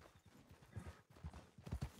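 Horse hooves clip-clop steadily in Red Dead Online, a quiet, rhythmic trot of several beats that grows a little louder toward the end, with no voices.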